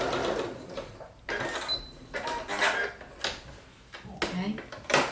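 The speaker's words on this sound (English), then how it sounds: "then lower my presser foot and then sew off the corner." A sewing machine stitching off the corner of a quilt in short bursts, starting and stopping several times with clicks and handling noises between runs, fairly quiet and close.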